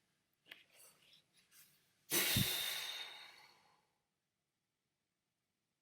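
A voice imitating the wolf from The Three Little Pigs blowing on a straw house blows out a long, forceful breath after a few softer breathy puffs, imitating a strong gust of wind, then falls quiet.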